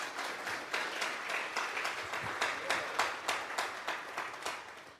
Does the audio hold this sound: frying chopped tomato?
no